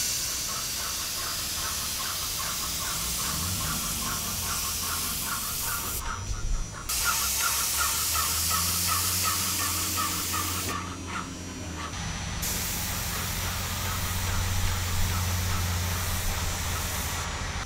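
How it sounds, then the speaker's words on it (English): A commercial-grade paint sprayer applies PROseal duct sealant with a loud, steady hiss that cuts out twice for brief pauses, over a low mechanical hum. "You can use just about any commercial grade paint sprayer to apply PROseal Spray."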